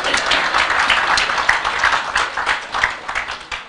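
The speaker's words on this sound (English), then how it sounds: "So you should clap for us." Dense crowd applause at a political rally, a sustained loud wash of many hands clapping together for several seconds with no speech over it.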